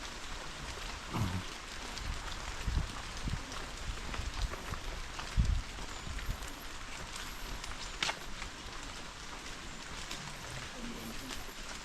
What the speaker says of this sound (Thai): ฝนตกไม่ใช่ปัญหาสำหรับ